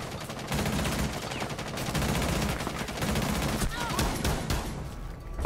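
Gunfire in a shooting video game, rapid bursts of automatic shots coming in dense, continuous volleys at fairly loud level, with talk faintly mixed in.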